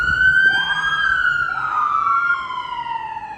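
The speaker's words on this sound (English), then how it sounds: "ambulance." An ambulance siren passes close by, loud and wailing with a steady falling and rising tone that shifts in pitch as it goes past, over faint background traffic.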